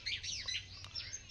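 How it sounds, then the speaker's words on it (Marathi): Sparrows chirp in a tree, a quick run of high, bright tweets and twitters that rise and fall over a faint low hum, fairly close and steady throughout. "झाडावरती बघा ना, चिमण्या किती छान चिव चिव चिव"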